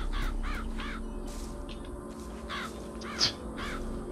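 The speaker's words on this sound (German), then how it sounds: "jetzt bin ich der Herr der Raben" Crows cawing in the BioShock Infinite video game, a series of repeated harsh caws in quick bursts over a steady low ambient hum, with no talking.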